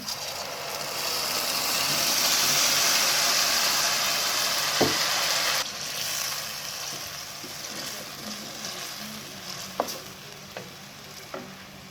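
Tomato puree hitting hot oil in a karahi with onion and ginger-garlic paste gives a loud, steady sizzle that drops sharply about halfway through, followed by quieter frying and occasional spoon clicks against the pan.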